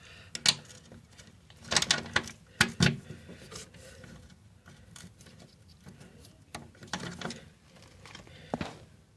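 A wrench works a 13 mm bolt loose on a lawn mower, making scattered metallic clicks and ratcheting ticks in short bursts with quiet gaps between them, close up and with no talking.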